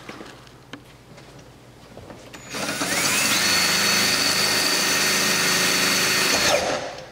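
Self-tapping screws being power-driven into a bracket behind the seats of a C5 Corvette coupe: a quiet lead-in, then a loud continuous whirring drive lasting about four seconds before stopping abruptly.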